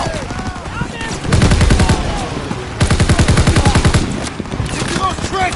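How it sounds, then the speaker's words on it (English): Sustained automatic gunfire from a Call of Duty battle, loud and rapid, with dense bursts of shots rolling through a chaotic war soundscape while voices call out beneath the firing. "Focus suppressive fire now!"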